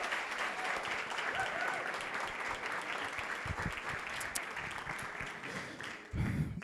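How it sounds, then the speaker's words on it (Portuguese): An audience claps steadily to welcome a pastor at a church service, a continuous wash of applause throughout, fairly faint and distant, with a louder thump near the end. "que você recebesse com uma salva de palmas o pastor Caio."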